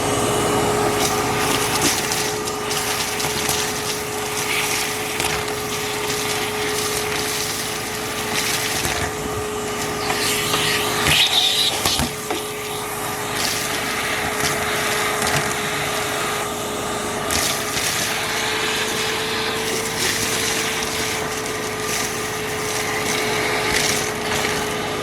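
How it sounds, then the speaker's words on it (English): Shop vacuum sucking rust debris out of a 1998 Jeep XJ body, a loud continuous whine with rattling and scraping as debris is drawn up, no speech. "I'm going to vacuum all of this out now"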